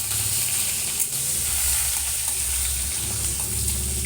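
Greens fry in a pan with garlic as a steady, close sizzle with light stirring scrapes, continuous throughout.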